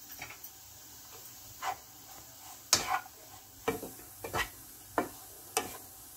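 Potato stuffing gets stirred in a pan, a spoon scraping and knocking in irregular taps over a faint sizzle, close and fairly quiet.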